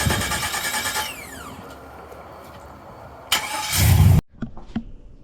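An AWD Turbo SS car engine cranks and fires into a rough idle, followed by a loud surging rev that cuts off abruptly, with a few clunks after.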